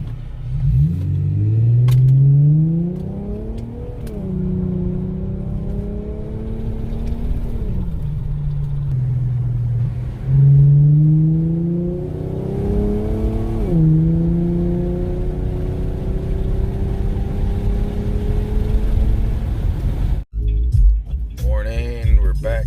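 An Infiniti G35 accelerates through several gears, each upshift marked by a rising engine note that drops back, heard from inside the cabin with a steady road rumble underneath.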